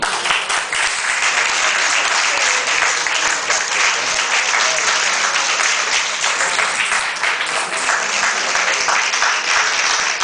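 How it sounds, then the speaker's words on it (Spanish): Sustained applause from an audience at a literary café evening in 2015, dense steady clapping holding at full loudness throughout without a break, with faint voices mixed underneath. "Un aplauso"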